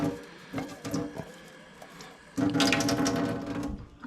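Warm water is poured into a pot of vegan chili, starting as short splashy bursts and then settling into a louder, steady gurgling pour that tapers off near the end.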